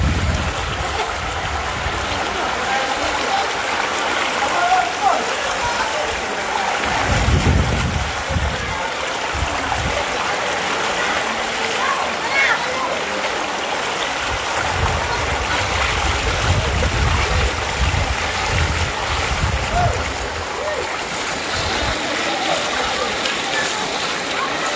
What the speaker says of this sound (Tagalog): Grabe lakas ng tubig.